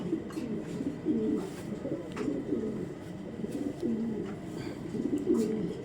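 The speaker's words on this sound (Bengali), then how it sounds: "তো চলুন কবুতর দুটো আগে দেখায় আপনাদের।" A pair of pigeons coos steadily nearby, the low throaty rolling calls repeating in a regular rhythm throughout, with no talking over them.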